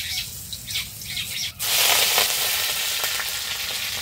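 Dried red chillies and curry leaves hit hot oil after mustard seeds, bursting into a loud, dense spluttering sizzle that jumps sharply in volume partway through and stays crackling steadily to the end.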